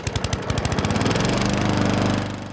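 A human voice imitates a lawnmower engine with a rapid, rough sputtering burr that starts in choppy pulses and settles into a steady buzzing drone, close and fairly loud, fading slightly at the end.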